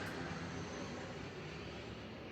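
Airplane flying low overhead, a loud, steady broadband roar of engine noise filling the whole short stretch with no break and no voices.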